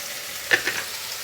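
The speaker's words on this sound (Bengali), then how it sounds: "নুনটা দিয়ে দিলে পেঁয়াজটা একটু তাড়াতাড়ি ভাজা হবে" Chopped onions fry in oil with salt in a pan, a steady close sizzle with a short stirring scrape in the middle.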